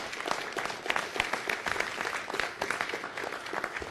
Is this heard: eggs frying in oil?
no